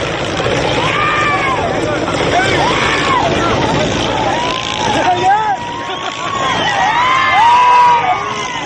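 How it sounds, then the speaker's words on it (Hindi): People scream and call out amid floodwaters during heavy monsoon rains, a continuous babble of distressed voices with rising cries, loud and close over a steady rush of water. "लोगों को चीखते पुकारते भी सुना जा सकता है।"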